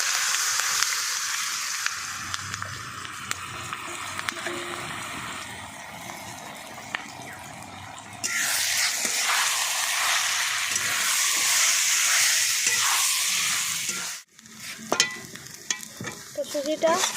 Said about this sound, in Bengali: সুজির বাটাটা দিয়ে দিচ্ছি।